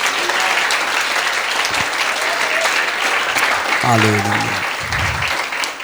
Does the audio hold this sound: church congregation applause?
yes